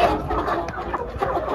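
Chickens clucking inside a crowded farm cage holding around two hundred birds, several close overlapping clucks and murmurs with no clear talking.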